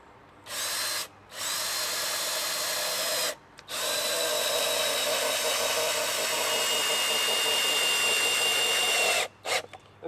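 A power drill drives 3.5-inch exterior screws into wooden rails in a long, loud whirring burst after two shorter runs, with brief pauses between.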